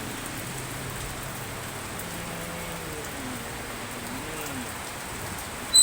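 Steady rain falls in a continuous hiss, with faint low voices murmuring underneath the downpour.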